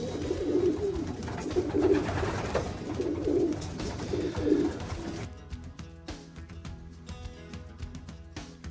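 Racing pigeons cooing in a loft, repeated low throaty coos close by in a steady rhythm for about five seconds, followed by quieter shuffling and faint background noises.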